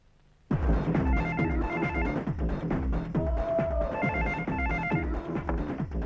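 A telephone bell rings in a steady repeating pattern of bursts, loud and close, continuing without pause after a brief quiet start.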